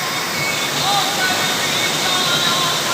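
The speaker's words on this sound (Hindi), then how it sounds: "ये देखिए ये नेचुरल वाटरफॉल है" A natural waterfall near a lakeside shrine gives a loud, steady, broadband rush of falling water that fills the whole stretch without a break.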